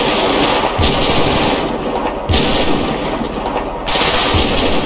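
Sustained automatic gunfire in the video game GTA 5, loud and dense rapid bursts filling the whole stretch, with deeper booming impacts recurring roughly every second and a half.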